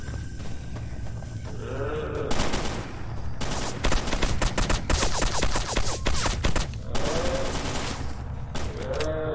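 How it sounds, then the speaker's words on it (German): Many people shooting at once in the video game S.T.A.L.K.E.R. Anomaly: dense, rapid bursts of gunfire crackle for several seconds in the middle, with lighter scattered shots before and after over constant background noise. "Aber ich höre jede Menge Leute ballern"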